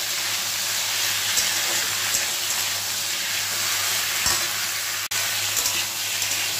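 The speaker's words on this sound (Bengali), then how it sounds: "ভালো করে পটলটাকে ভেজে নেব" Pointed gourd (potol) with whole green chillies frying in oil in a pan, a steady close sizzle with occasional soft scrapes and knocks of stirring, no voices.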